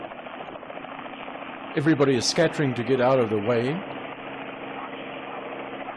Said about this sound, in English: the helicopter has taken off